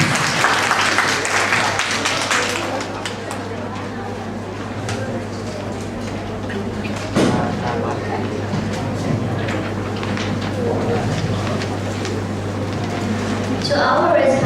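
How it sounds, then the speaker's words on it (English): An audience applauds at a university speech competition, a dense wash of clapping that swells loudest at the start, thins to a steady patter, then rises again near the end. "A round of applause."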